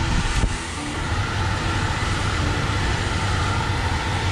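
A 20-ton York rooftop gas heating unit runs with a loud, steady broadband roar of blowers and burners, heard close, with one brief click near the start.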